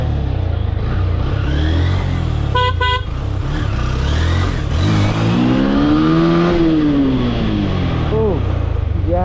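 Loud, close engine rumble and dense road noise fill a traffic jam, with car horns honking repeatedly, including a long blaring tone and several shorter toots, plus brief voices in the background.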